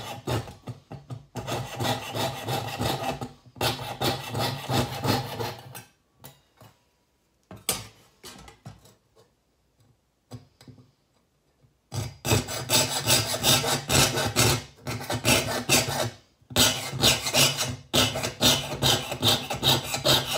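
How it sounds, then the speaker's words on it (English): A jeweler's saw cutting metal with a back-and-forth wiggling stroke, producing rhythmic rasping bursts in several bouts separated by pauses, close and fairly loud with no talking. "So I just basically just saw and kind of wiggle as I go."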